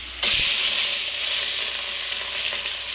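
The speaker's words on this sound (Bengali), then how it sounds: "এগুলো কিন্তু আমি কড়ার ভিতরে একটা একটা করে ছেড়ে দেবো" Fish rubbed with salt and turmeric hit hot oil in a wok, bursting into a loud, steady sizzle that starts abruptly and keeps hissing close-up with no talk.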